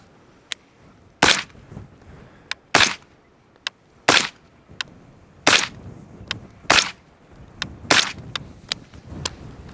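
Six suppressed gunshots fired through a SiCo Velos 12.5 suppressor at an outdoor range, sharp loud cracks spaced about a second apart, with fainter ticks and echoes between them.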